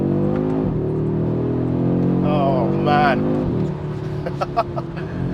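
An Audi RS3's 2.5-litre five-cylinder engine revs up hard with a rising, warbling note, drops back after a gear change, then climbs again, close and loud; a man exclaims briefly partway through.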